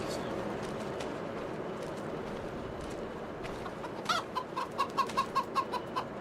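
Chickens in a farming simulation game on an Iowa farm with hundreds of birds cluck in a rapid run of short, evenly spaced calls near the end, rising over steady background ambience.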